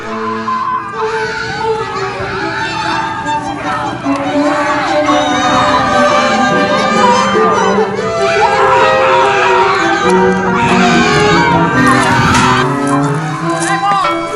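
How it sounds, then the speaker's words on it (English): A dense crowd of voices shouting and yelling together, loud and continuous, with higher excited cries rising above the din. "I opened the door and saw 10 or so people yelling at British soldiers."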